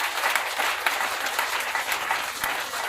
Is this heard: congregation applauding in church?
yes